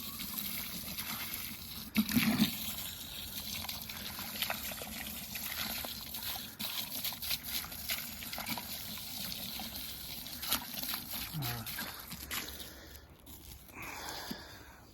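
Water from a hose trickling and gushing into a freshly dug post hole for an Australian rotary clothesline, a steady close wet splashing and sloshing flow that runs throughout before tapering near the end.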